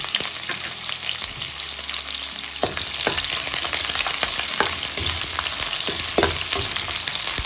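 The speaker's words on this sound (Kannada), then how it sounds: "ಇವಾಗ ಎಣ್ಣೆ ಬಿಸಿಯಾಗಿದೆ. ಇದಕ್ಕೆ ಪುನಃ ಒಂದು ಈರುಳ್ಳಿನ ಕಟ್ ಮಾಡಿ ಹಾಕ್ತಾ ಇದ್ದೀನಿ." Chopped onion hitting hot oil for a village-style chicken sambar, a continuous close sizzle with sharp crackles and spatters popping through, no voices.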